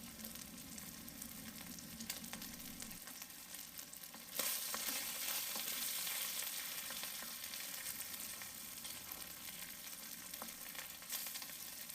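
Beef and broccolini fry in a coating sauce in a hot pan, a steady close sizzle that jumps louder partway through as ingredients go in, with faint stirring scrapes and no talk.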